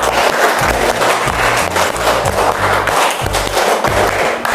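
Rhythmic clapping from a classroom of primary school children, a patterned sequence of claps repeated in quick, even bursts, loud and close.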